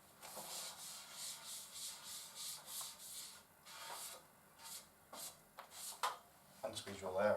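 Adhesive print film being squeezed out and rubbed down with a squeegee, heard as a run of repeated rhythmic rubbing strokes, then quieter scrapes and a few sharper handling sounds toward the end.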